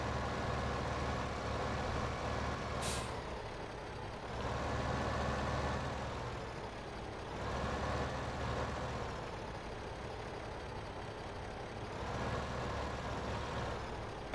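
Tractor engine in the farming video game Farming Simulator 2015 drones steadily at close range, a low continuous hum that swells and eases in volume every few seconds, with no voices.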